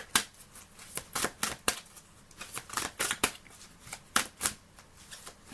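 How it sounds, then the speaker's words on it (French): Tarot cards being turned over and laid down, a series of crisp, light card flicks and slaps in an irregular rhythm, close and fairly quiet with no talking. "les cartes se retournent"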